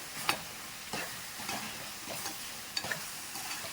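Prawn curry being stirred in a pan after coriander powder goes in, soft repeated scraping strokes of a spoon about every half second over a faint low sizzle, close but quiet, no talking.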